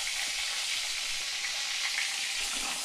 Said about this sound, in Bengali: এবার আমি বেগুন একটু লাল লাল করে ভেজে নেব, আঁচ মাঝারি রেখে।